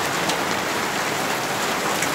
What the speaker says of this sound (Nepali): बल्ल बल्ल अहिले भर्खर असिना परेको छ, अलिअलि स्ट्रम, एकदमै डरलाग्दो असिना